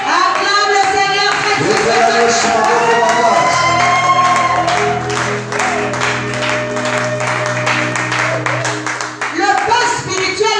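A church congregation claps and cheers loudly in praise, a dense continuous roar of applause with voices rising through it, close and full, and people shouting and talking throughout.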